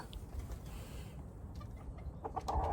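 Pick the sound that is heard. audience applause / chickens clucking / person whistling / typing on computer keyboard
chickens clucking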